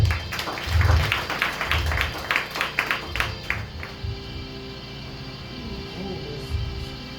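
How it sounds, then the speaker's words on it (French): Brief applause from a congregation at a French-language night prayer vigil, a burst of clapping for the first few seconds that fades out, leaving a quiet, humming room. "applaudissez pour moi"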